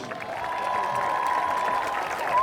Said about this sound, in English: giving a round of applause to the Hempfield cheerleaders